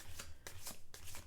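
Oracle cards being shuffled by hand in three quick riffling bursts, close and fairly quiet, with no voices.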